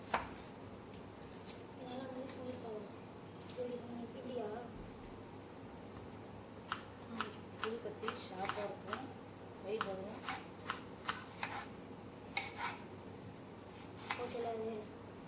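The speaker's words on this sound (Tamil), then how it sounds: "வெங்காயம் கட் பண்ணிகிட்ருக்கான் என் பையன்." An onion is cut by a boy in a home kitchen, soft irregular chopping taps and knife scrapes picking up in the second half, quiet and close, with someone talking over parts of it.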